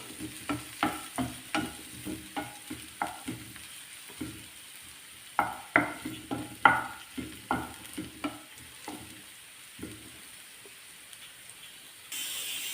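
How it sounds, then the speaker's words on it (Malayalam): Onions sauté in ghee for a spinach and lentil dal curry, with a soft sizzle beneath repeated stirring scrapes and taps in irregular bursts, fairly quiet and close, with no talking. "സവാളയൊക്കെ ഒന്ന് വഴന്ന് വന്നിട്ടുണ്ട്"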